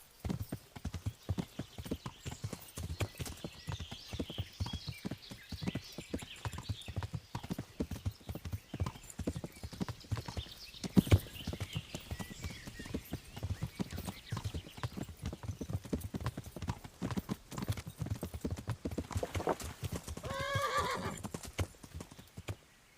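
Rapid, continuous clip-clop of hooves from a galloping horse in the video game Kingdom Come: Deliverance, with a loud neigh near the end.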